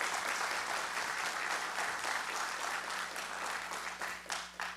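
An audience at a book launch event claps continuously in a dense, even wash of applause that holds steady for several seconds without any talking on top.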